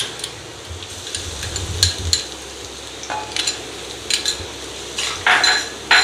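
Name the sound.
chopped garlic added to hot oil in a pan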